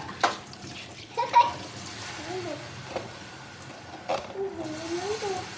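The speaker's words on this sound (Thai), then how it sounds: "อ่ะล้างช้อน ล้างช้อน" Tap water runs into a sink while a child washes spoons, giving a steady trickle with a few sharp splashes and clinks, as a child and an adult talk over the running water.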